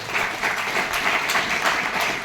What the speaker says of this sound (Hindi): मैं चाहूंगा उनके लिए जोरदार तालियां